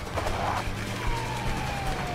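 Police sirens chase through the video game A Way Out, a falling wail over engine rumble and a brief scrape or skid, loud and steady throughout with no voices.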